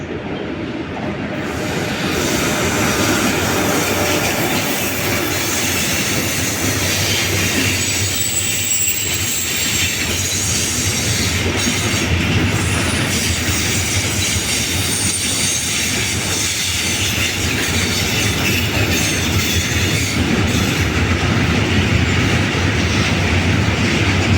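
Trains at Padova railway station in Italy, a steady loud rumble of rolling railcars with wheel squeal and faint clickety-clack running continuously throughout, no talk.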